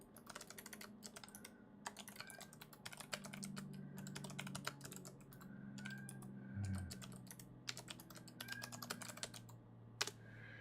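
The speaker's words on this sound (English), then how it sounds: "I'm in the middle of typing something here on YouTube." Steady computer keyboard typing with quick, uneven bursts of key clicks, close and clear, running alone for about ten seconds with brief pauses between flurries.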